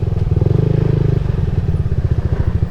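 A motorcycle engine runs loud and close, a steady throbbing rumble that shifts in pitch partway through as the bike rides past, with no talking over it.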